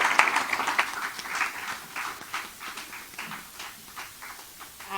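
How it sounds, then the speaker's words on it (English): An audience applauds a panel at a public event, with a scattered crowd of hand claps at moderate distance, fairly faint and uneven, tapering over several seconds. "let's just give them another round of applause"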